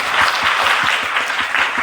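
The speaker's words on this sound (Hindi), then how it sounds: "ताली चाहती हूँ।" Audience applause, a loud, dense and steady round of many hands clapping close by, sustained evenly throughout with no talk over it.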